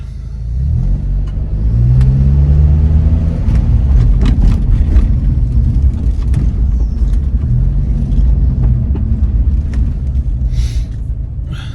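Nissan Largo Japanese import with an upgraded exhaust and chipped ECU, its engine running loud and close with a deep rumbling idle and a few revving swells rising and falling over about twelve seconds.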